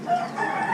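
A noisy Bengala rooster at a small animal auction lets out one short, loud, strained crow close by, a quick rising call that holds briefly and cuts off.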